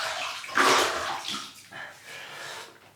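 Water splashes and runs as a face is wetted before a double-edge razor shave, a loud burst of splashing followed by softer trickling and a second quieter splash, close by.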